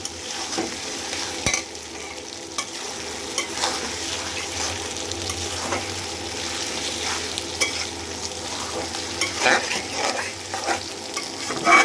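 Onions and tomatoes fry on high flame in a pan for a chicken masala gravy, crackling steadily while a spatula scrapes and stirs in repeated strokes close by.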